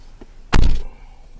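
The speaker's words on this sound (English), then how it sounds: "Let me just shut the driver's door." A Nissan car's driver door shuts with a single solid thunk, loud and close, preceded by a faint small click.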